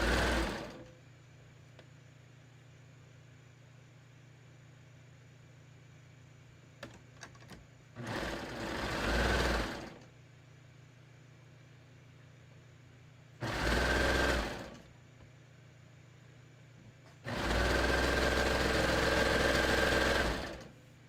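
Sewing machine stitching the short side seams of a cropped tee, in three separate bursts of running that each last a few seconds, with quiet handling noise between them.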